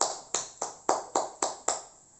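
Seven sharp hand claps, evenly spaced and fairly close, from a small group giving applause in a classroom, each clap ringing briefly before the next and ending in quiet.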